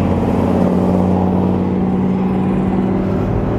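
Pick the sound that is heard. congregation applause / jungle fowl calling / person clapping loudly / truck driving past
truck driving past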